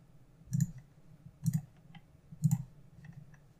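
Computer mouse clicks while modding a Unity game, three distinct soft clicks spaced about a second apart with faint fainter ticks in between, quiet and close.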